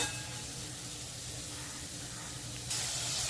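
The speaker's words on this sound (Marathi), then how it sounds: "हे तीन कांदे मोठे कापून घेतलेत मी ते ह्या तेलावर आपल्याला टाकायचे आहेत" Three large chopped onions hit hot oil for a Maharashtrian chicken curry with coconut, giving a steady broad hiss that flares louder near the end.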